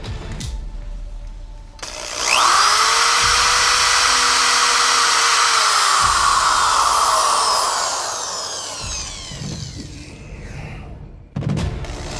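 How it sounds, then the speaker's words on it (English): A power drill bores a hole through the rear of a solar-powered e-bike trailer, a loud steady whine that holds for about seven seconds and then winds down, with short handling noises before and after. "pretty much gonna drill a hole back here"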